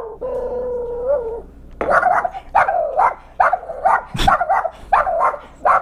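A dog barks repeatedly in a loud, close series of sharp barks, preceded by a brief whining howl.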